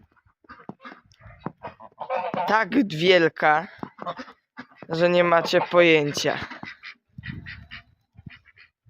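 Mud-smeared geese honk outdoors in heavy snowfall, their calls rising in two loud clusters while someone talks close by over them.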